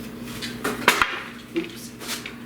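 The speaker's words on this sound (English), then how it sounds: "Just slice right through all those strings." Blade cutting through the strings on a Union Loom Works loom under restoration gives a few short, faint snaps and scrapes close by, with a sharper twang near the middle and a softer one after.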